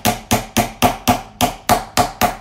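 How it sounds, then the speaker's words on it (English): A nylon-head multifunction hammer taps metal on a bench block in ten evenly spaced, moderately loud knocks, each a short thud with a quick decay, and no talking. "give it a couple of nice hits, not too aggressive, just a couple of taps till you see that your metal is nice and flat"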